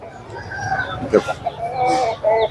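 An aseel rooster calls with short, harsh clucking and crowing at a busy poultry market, close by and mixed with people talking nearby.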